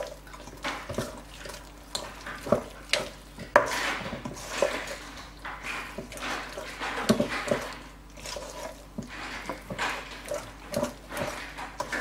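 A thick mixture is stirred in a pot, with irregular scraping, knocking and wet sloshing from the spoon close by. Louder clanks against the pot come in bursts. There is no talking.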